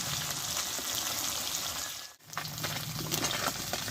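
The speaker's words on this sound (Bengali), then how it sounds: "দেখো মাছগুলো আমার ভাজা হয়ে গেল" Pabda fish fry in hot salted oil with a dense, close crackling sizzle that runs steadily, dipping for a moment before resuming at the same level.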